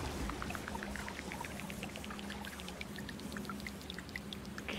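Water pouring to fill a river in the video game Terra Nil, a continuous trickling rush with scattered droplet plinks, steady and moderately loud, no voices.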